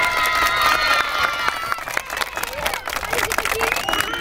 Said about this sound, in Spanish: ¡Aplauso para Julio!